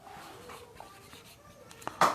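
Marker or pen writing on a board during a chemistry lecture, with faint scratchy strokes through most of the stretch and a louder tap or stroke near the end, quiet and close.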